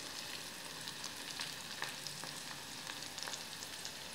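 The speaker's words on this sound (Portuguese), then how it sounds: "E tá fritando assim." Okra frying in oil in a pan, a soft continuous sizzle and crackle with occasional small pops, heard close but quiet, with no talking.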